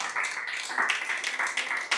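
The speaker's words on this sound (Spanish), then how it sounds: "Nos ponemos de pie y damos una ofrenda de palmas a Jesús" A congregation standing in a church service claps hands together as an offering to Jesus, a short, fairly soft patter of many hands with uneven rhythm.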